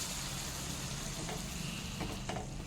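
A tadka of hot spiced oil poured into boiling lentil dal for dal fry gives a steady, loud, close-up sizzle and crackle that holds across the whole moment, with a few sharper spatters near the end.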